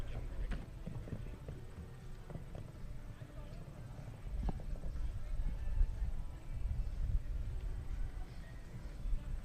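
Hooves of a show jumping horse in a CSI 5* arena thud and clip-clop at a quick pace, moderately distant, under steady commentary and crowd ambience.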